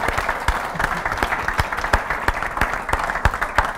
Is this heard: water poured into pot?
no